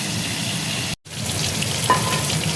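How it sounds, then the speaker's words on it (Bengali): Small fish (pona) frying in hot oil for a Bengali fish curry make a steady, close crackling sizzle that cuts out briefly near the start, then resumes at the same level. "মাছ দেখো ভাজা হয়ে গেছে,"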